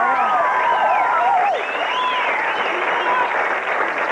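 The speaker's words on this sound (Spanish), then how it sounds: "Que sienta el cuerpo lo que recibe, el aplauso y el chiflido y todo." A television studio audience on a variety show bursts into steady applause and crowd noise, with high shrill whistles rising and falling over the clapping throughout.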